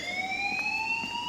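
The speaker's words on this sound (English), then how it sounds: "please turn off that alarm since that's your job" An alarm in Life is Strange sounds as a steady, piercing siren tone that slowly climbs in pitch, loud and continuous over faint background noise.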